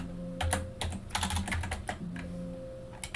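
Rapid keystrokes clatter on a computer keyboard during network switch interface configuration, arriving in irregular bursts of clicks over a low electronic hum, close and clear with no voices.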